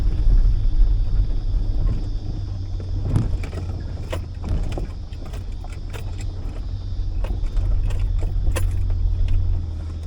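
A 4WD vehicle crawls in first gear low range over a rough State Forest track, with a steady low engine drone, creaks and knocks from the body and suspension, and scattered rattles throughout.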